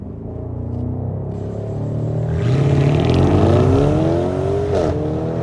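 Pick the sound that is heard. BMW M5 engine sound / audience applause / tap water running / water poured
BMW M5 engine sound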